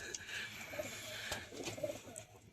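Giribaz high-flyer pigeons coo in soft repeated bursts, nearby but quiet, with faint background noise.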